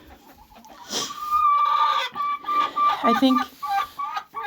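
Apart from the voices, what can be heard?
hen clucking noisily in a chicken coop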